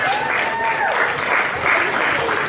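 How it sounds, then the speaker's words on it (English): Steady applause fills an audience at a fashion and award show, loud and continuous throughout, with a few voices cheering over the clapping. "Ladies and gentlemen, let's give Queen a round of applause, please"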